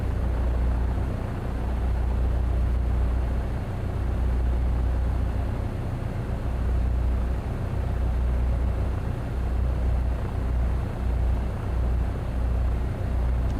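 A Cirrus light aircraft engine drones in a flight simulator game on a flight from Honolulu to Kahului, Hawaii. It is a steady, low, moderately quiet hum that holds throughout with no talk over it.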